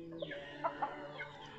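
Gamefowl roosters and chickens clucking close by, a short run of several distinct clucks and calls at moderate volume, with no talking.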